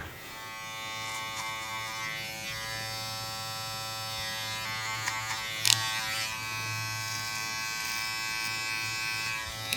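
Electric hair clippers buzz steadily and closely throughout a men's short haircut, worked clipper over comb with a constant hum and small fluctuations as they move through the hair.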